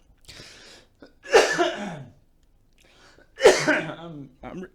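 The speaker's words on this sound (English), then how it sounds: "I'm coughing." Two harsh, close coughs with quiet breaths and a short throat sound between them, in an otherwise quiet room.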